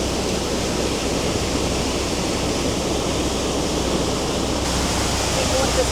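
Heavy rushing water pours like a waterfall through a tidal lock carrying brown sewage-coloured water, a loud, steady broadband roar filling the whole clip without pause.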